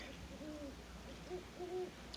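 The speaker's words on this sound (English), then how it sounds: "There's a pair of owls you were hearing up there in the tree." Faint, distant hoots from a pair of owls in a tree, three or four short soft calls in quick succession over a steady low background hiss.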